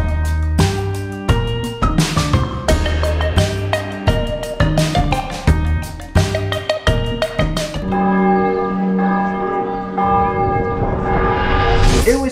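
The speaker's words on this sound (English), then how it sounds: "the bell started ringing" A church bell in a quiet town near the Swiss Alps rings at 6 p.m., loud and close, with rhythmic repeated strikes whose rich overtones ring on and blend into a sustained, shimmering wash toward the end.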